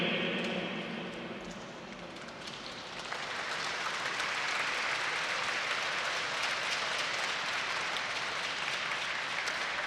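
Indoor crowd at a Taiwanese enterprise-league volleyball match breaking into applause, a brief quieter lull then a dense, steady wash of clapping that swells and holds loud to the end.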